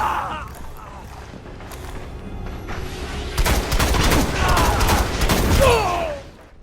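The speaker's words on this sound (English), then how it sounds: "one of the first things I noticed about this scout rifle was how powerful it sounds" Rapid bursts of scout rifle fire from the video game Destiny, loud and punchy with booming low end, building into dense volleys in the second half, with faint talk underneath.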